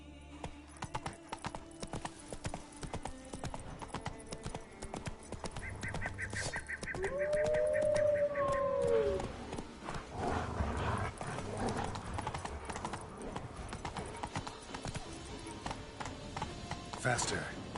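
Rhythmic hoofbeats of a galloping horse in The Witcher 3, a steady clip-clop running throughout, mixed with game sounds and a speaking voice.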